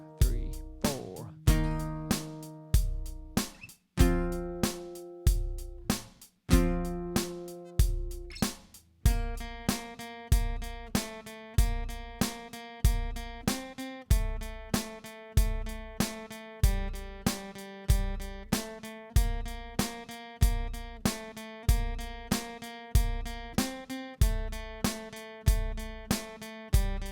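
Electric guitar plays power chords from the pre-chorus of a song alongside drums, with sharp, regular strummed hits at a steady tempo. The opening has sparse single notes, then a denser driving pattern continues for almost half a minute.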